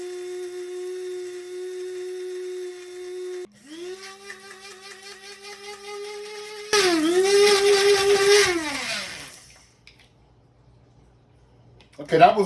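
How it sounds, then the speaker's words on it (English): An electric spice grinder whirs loudly while grinding thyme, sage, fennel seeds, hot pepper flakes and garlic cloves, a steady motor whine shifting pitch and rising to a fuller, rougher grind before spinning down to quiet. "I'm going to put these in the spice grinder and get these ground up, along with about 4 or 5 cloves of garlic"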